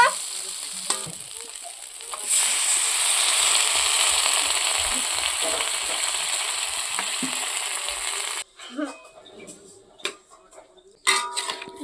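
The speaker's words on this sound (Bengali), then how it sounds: "মশলাটা ভাজা হয়ে গেছে, এবার জল দিয়ে দিব।" Water poured into a pan of fried spices and potatoes for an egg and lentil curry, setting off a loud, steady hiss and sizzle for several seconds before it drops off to quieter bubbling and a few clinks.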